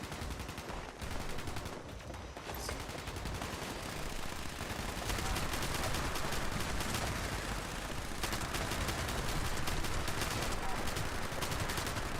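Continuous heavy gunfire and rapid bursts fill a Fallout 76 fight, with dense overlapping shots and blasts throughout, loud and close, including rocket launcher fire amid the barrage.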